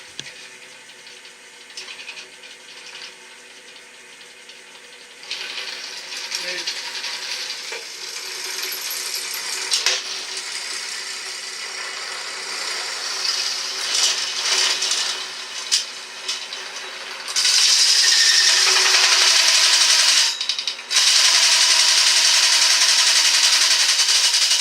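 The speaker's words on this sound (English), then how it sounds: "Start your drill press." A drill press motor starts and whirs steadily nearby, growing louder and shriller toward the end, with no one talking.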